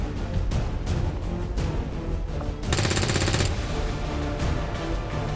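XCOM video game gunfire: a rapid, loud automatic burst of shots rattles out near the middle, set among clattering in-game sounds and other scattered weapon noise.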